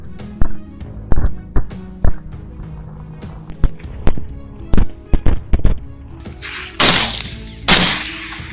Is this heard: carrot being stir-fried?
no